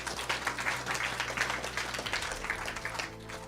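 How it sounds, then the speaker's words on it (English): Moderate applause from a sales seminar audience, a short burst of scattered clapping over a steady low hum, fairly quiet and lasting a few seconds. "Applause."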